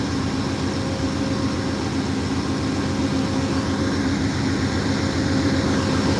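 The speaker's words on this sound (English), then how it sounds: "The train has arrived." Amtrak California Zephyr passenger train standing at the Ottumwa, Iowa station platform after arriving, a steady loud rumble of idling locomotive engine and rail noise continuing throughout without a break.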